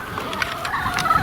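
A flock of chickens clucking and squawking during afternoon feeding, overlapping calls from many birds at moderate distance over a steady ambient bed, with no voices.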